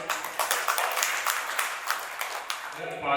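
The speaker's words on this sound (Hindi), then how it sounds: "ताली बजाएं" An audience claps at a book launch event in Kanpur. Sharp, irregular hand claps ring out for about three seconds, then fade out.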